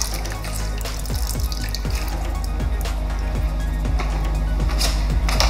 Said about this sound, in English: I'm just going to wet my cloth and give it a good wring out.